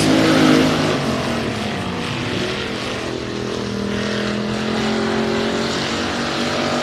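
A Factory Stock race car laps Sabine Speedway in qualifying, its engine a steady loud drone that holds for the whole stretch with a slight swell early on, no voices over it.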